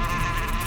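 Insect buzzing from honeybees around a beehive, a steady close drone that continues without a break through the short moment, with no voices.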